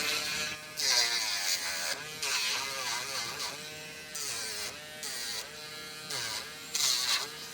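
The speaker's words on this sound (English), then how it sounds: "I use a Dremel 7300 cordless" A Dremel 7300 cordless rotary tool grinds the nails of a 55-pound Chinese Shar-Pei, a faint, close, high buzzing whine that comes in short bursts and wavers in pitch as it touches each nail.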